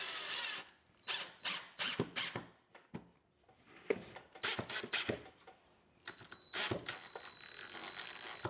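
A screw is driven into a wooden welcome sign, heard as a series of short, loud, buzzing bursts from a nearby driver with brief pauses between them, then a thinner, steadier whir at the end.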